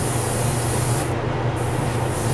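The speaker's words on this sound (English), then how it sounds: "I could go in and spray a little heavier." A continuous, close hiss of spray paint misting steadily onto a resin anime figure model as primer, with a brief dip in its airy top end partway through and no talking.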